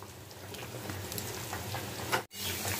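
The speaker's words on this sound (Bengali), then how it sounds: "এখন ফুটতে শুরু করেছে ঝোলটা" A thin Bengali fish curry of bata fish simmering in a pot, bubbling and sizzling steadily and close up, with a brief break near the end before the bubbling resumes.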